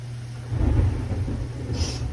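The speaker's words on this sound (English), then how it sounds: "Wow, it's really raining outside." Heavy rain with a low rolling rumble of thunder outside a kitchen during cooking, steady broadband wash with a swelling low roar around the middle, no voices.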